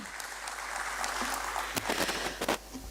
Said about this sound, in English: can we please have a big round of applause for the incredible journey that Neptune Logitek had today